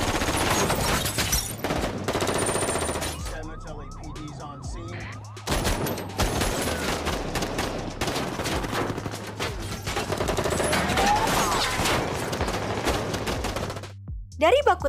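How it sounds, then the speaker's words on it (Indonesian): Dense bursts of automatic gunfire crackle through a police-versus-robbers shootout in a film, layered with wailing sirens and shouted voices, loud and nearly continuous. "Baku tembak pun terjadi"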